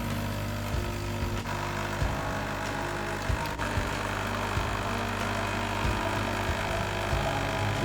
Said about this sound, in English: The machine is a big noise.